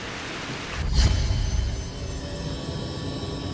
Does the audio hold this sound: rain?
yes